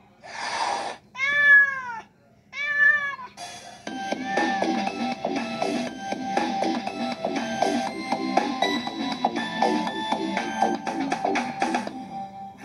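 A domestic cat meows twice in clear, close calls near the start, followed by a busy stretch of layered tonal background sound.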